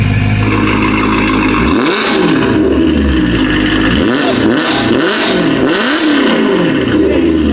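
BMW E9X M3 with the S65 V8 and valved aftermarket exhaust open, starting at a loud idle burble, then blipped through a run of rising and falling revs, several sharp rev sweeps in a row, very close and loud.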